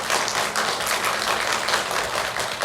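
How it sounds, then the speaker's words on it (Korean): Congregation at a Sunday family worship service applauding to welcome a newly registered member, a steady dense patter of many hands clapping at moderate distance, continuous and even throughout. "먼저 좀 박수로 환영하겠습니다"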